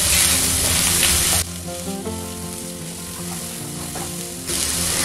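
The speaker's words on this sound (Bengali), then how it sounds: "এবার আলুর টুকরোগুলোকে মশলার সঙ্গে ভালো করে মিশিয়ে নিতে হবে" Potato pieces mixed with spices sizzle in a pan, loud and close at the start and end, with quieter stirring and a tonal musical stretch in between.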